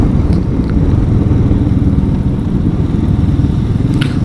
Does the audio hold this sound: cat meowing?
no